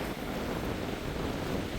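Winter storm wind blows in a steady, unbroken roar throughout, with no pauses or gusting gaps and no voices.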